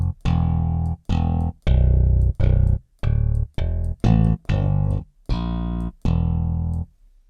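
An electric bass DI tone from the Omnibass plugin plays a riff of about ten plucked notes, each with a sharp attack and a brief sustain before cutting off, recorded clean and direct.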